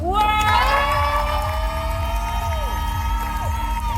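A live comedy stage audience erupts in loud cheering and whoops, sustained high voices rising and sliding over a rumble of crowd noise, close and continuous for several seconds.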